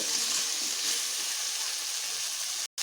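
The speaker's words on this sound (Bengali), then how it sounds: "এবার এখানে আমি কেটে রাখা পেঁয়াজ ও ক্যাপসিকামগুলোকে দিয়ে দিচ্ছি" Chopped onions and capsicum sizzle in a spice mix in a pan, a loud, steady hiss that fills the clip and cuts off abruptly near the end.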